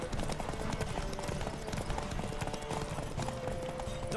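Horses gallop in a race in The Witcher 3, a steady dense drumming of hooves that keeps on throughout, close and loud, with game music and a faint voice beneath.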